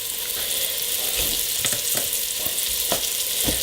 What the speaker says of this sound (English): Just throw that into the oil. And we're just going to brown this meat,